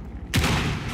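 A grenade detonates in Rainbow Six Siege with a sudden, close, loud burst that rolls into a rumbling tail over low background noise.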